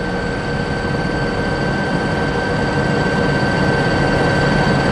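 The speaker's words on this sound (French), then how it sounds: "L'hélicoptère de surveillance s'est mis de nouveau en chasse." A surveillance helicopter over the Kerguelen Islands: a steady, dense mechanical roar with a faint whine runs unbroken throughout, constant in loudness.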